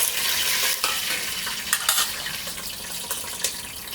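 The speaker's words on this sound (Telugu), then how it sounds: "ఇప్పుడు ఏం చేద్దామంటే మేథి అండ్ దెన్ పులావ్ ఆకు వేసేద్దాం." Fenugreek seeds and bay leaves frying in hot oil for a vegetable biryani give a loud, steady sizzle with scraping stirs and a few sharp clinks of a utensil against the pan, with no voices.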